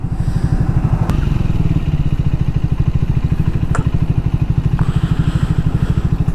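A Triumph Speed 400 motorcycle engine pulses steadily and loudly while the bike is ridden through city traffic, a continuous close thrum with a few brief clatters and clicks on top, and no talk.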